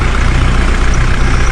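Green JCB backhoe loader lifting a round bale, its diesel engine rumbling loud and steady with a deep low throb throughout, no voices over it.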